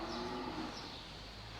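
A cow on a dairy farm lets out a single low moo at the start, carried over a steady, dense background hum.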